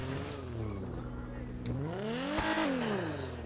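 A sports car engine in GTA 5 revs up and down in smooth rising and falling sweeps, moderately close, with a brief sharper burst partway through.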